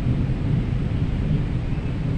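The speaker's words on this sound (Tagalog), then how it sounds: "Takot din ako sa kulog." A low, steady rumble of thunder during a heavy rainstorm fills the short stretch, loud and enveloping, with no voices.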